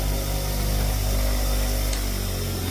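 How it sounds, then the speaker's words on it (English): A bench grinder fitted with a small wheel keeps up a steady, loud mechanical whir with low hum throughout, its pitch holding fairly even as it spins down after being switched off, with no talking. "Turn that grinder off."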